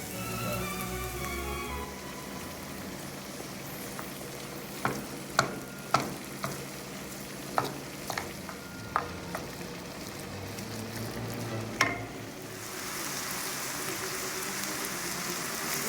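Paprika and chili peppers frying in a pan, a steady close sizzle with a series of sharp spoon taps and scrapes against the pan midway, then the sizzle continues alone.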